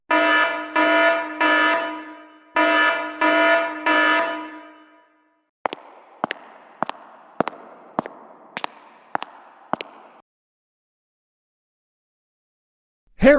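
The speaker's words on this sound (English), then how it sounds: "I'm going to pull the fire alarm." A school fire alarm sounds in loud harsh buzzing bursts, two groups of three, followed by a run of sharp rhythmic clacks and then silence.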